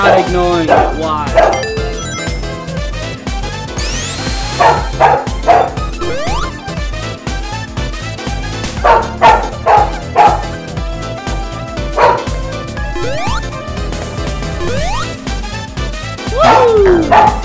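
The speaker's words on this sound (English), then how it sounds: "Ignore the dogs" Dogs bark and yip in loud, close bursts with whimpering between, over constant video game music, with occasional talk.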